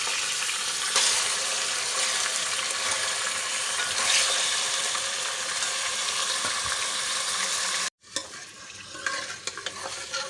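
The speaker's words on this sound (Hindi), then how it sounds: "अब अदरक लहसुन के साथ और गोश्त के साथ थोड़ा सा भून लेंगे।" Beef for nihari frying with ginger and garlic in a pan, a steady close sizzle with scraping stirring throughout, cutting off sharply near the end before frying resumes more faintly.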